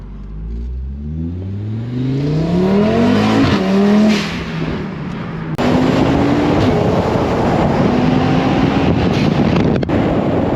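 An Audi TT RS engine revs up through several gears with rising whines, a brief drop at a shift, then strong acceleration under heavy wind noise.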